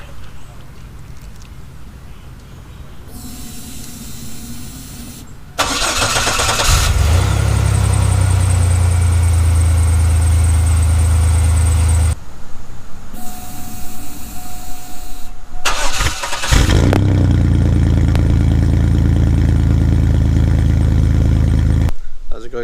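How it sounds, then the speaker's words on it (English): A Chevrolet ZR2 Blazer with its catalytic converter removed is started cold twice. Each start has a short crank, then the engine catches into a loud, deep, rumbling idle that carries on steadily and close by. "you'll hear the difference of actual flowing exhaust compared to before with a cold"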